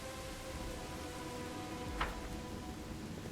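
Steady rainfall in the fantasy role-playing game Pathfinder: Wrath of the Righteous, a dense even hiss of falling rain with one brief sharper splash or crackle midway, heard alone with no talking.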